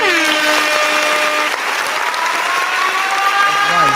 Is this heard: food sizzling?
no